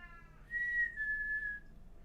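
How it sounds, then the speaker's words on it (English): A clear, close whistle in two linked notes, a rising tone followed by a sustained one, over a quiet room. "That little double whistle gets the cat's attention."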